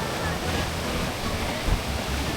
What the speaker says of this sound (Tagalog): Lumalakas na yung alon.